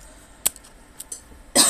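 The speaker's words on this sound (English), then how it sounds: "Oh, coughing up a storm here." A person coughs in short, abrupt bursts, a couple of quick ones early on and a louder, harsher cough at the very end, close to the microphone with no talking.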